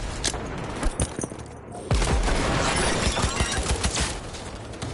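Rapid gunfire in the video game Cyberpunk 2077 against a security turret and mech, dense overlapping shots and crackling impacts that swell into a sustained loud barrage.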